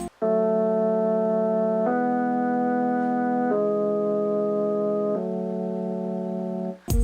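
A Rhodes electric piano plays the part from a song, with warm sustained chords held steadily and changing about every second and a half, four chords in all, clear and alone.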